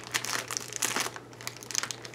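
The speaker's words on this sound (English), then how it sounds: "this cute purple wrapping, which I'm going to use my scissors" Scissors cutting through purple paper wrapping on a book, a close crinkling and snipping with quick irregular crackles, fairly quiet and alone.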